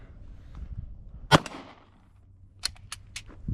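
Rifle fitted with a Cloud EPL weapon light firing during a recoil control test, one loud sharp report followed by a quick cluster of three or four crisp shots further on.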